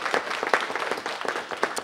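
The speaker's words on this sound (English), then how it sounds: "Everyone, give them a round of applause." A short burst of applause from the audience at a city council meeting, steady clapping throughout with no voices on top.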